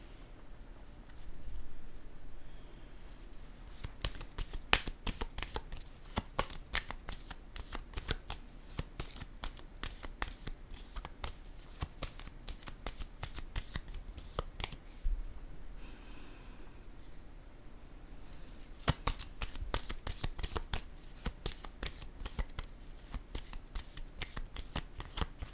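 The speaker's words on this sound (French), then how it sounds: "Je vais piger une autre carte." Tarot cards are shuffled in long, rapid bursts of riffling flicks close by, with short pauses between rounds and soft breathing underneath.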